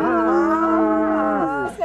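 People imitate a cow mooing at a cuddle party, one long, loud, sustained voiced moo that wavers and drops off at the end.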